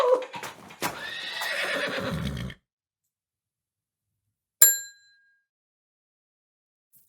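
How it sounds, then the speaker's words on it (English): A comedic neighing sound effect for a donkey in a children's church skit, a loud whinny lasting a couple of seconds, followed by silence and then a short bright ding. "Here, let me put you on my donkey."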